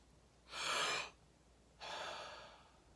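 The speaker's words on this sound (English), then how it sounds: "let's just try 10 breaths like that and see how you do" Two deep, slow breaths close up and quiet in a calm room, a long inhale followed by a long airy exhale, with a brief pause between them.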